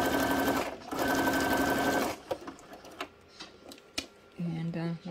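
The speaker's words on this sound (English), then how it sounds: "So what I will do first here is I'm going to sew that." A sewing machine stitches a paper journal card made from punch negatives, with a loud, close, rapid mechanical chatter in two bursts that stops after two seconds. Scattered clicks and handling noises follow, then a brief hum near the end.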